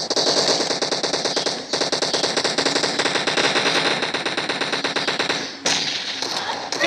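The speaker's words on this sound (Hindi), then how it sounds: "शॉटगन बहुत ओपी है" Rapid, continuous shotgun and automatic gunfire from a PUBG Mobile match, loud and close, with dense repeated blasts running almost throughout and a brief gap midway.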